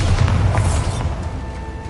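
A Bombarda blasting spell in a Harry Potter video game goes off as a single deep, booming explosion that hits at once and then rumbles away over under two seconds.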